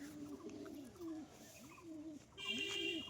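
Domestic pigeons of a prized, top-quality stock coo close by: a series of soft, rising-and-falling throaty coos in a steady rhythm, repeated about four times with a faint background hum.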